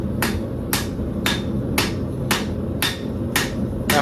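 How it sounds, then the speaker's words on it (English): A heavy 10-pound cross peen hammer strikes a hot steel knife blade eight times at a steady, even pace, each blow a sharp, ringing metallic clang. "I'm using a 10-pound crossbeam hammer to try and draw out some length to my blade"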